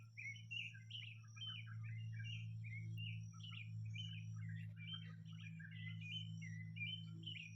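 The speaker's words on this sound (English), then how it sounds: "You can enjoy the birds singing." Several birds sing outdoors in a calm natural setting, with a steady stream of small chirps and tweets over a constant low hum, fairly faint and with no voices.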